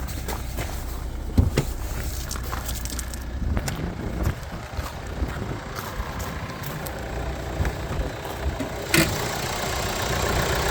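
A 2011 Hyundai ix35 4x4 crossover with a 2.0 diesel engine and automatic gearbox idles under the open hood, a steady low rumble with a few clicks and knocks close by, no talking.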